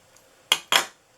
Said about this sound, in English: I'm just going to fit my scissors under here and slant that up like that